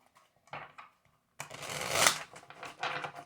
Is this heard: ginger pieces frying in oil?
no